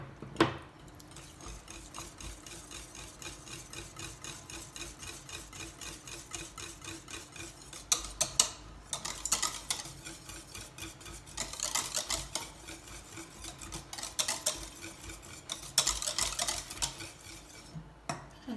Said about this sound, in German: Gebt erst die Hälfte rein und rührt es erst unter.